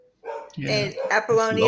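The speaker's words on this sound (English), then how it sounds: "I'm sorry about my dogs." Dogs bark in a home during a conversation, with sharp yips breaking through ongoing talk and laughter at close range.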